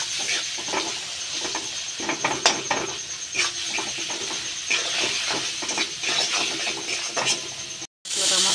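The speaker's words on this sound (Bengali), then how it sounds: "নাড়া দিয়ে দিচ্ছি।" Spices frying in oil in a pan for a mustard hilsa curry, stirred with steady sizzling and repeated light scrapes and clinks of the spoon against the pan, continuous and close.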